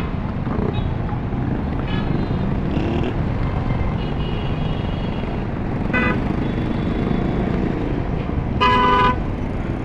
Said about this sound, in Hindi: ट्रैफिक जाम हो गया है थोड़ा सा यहाँ पे।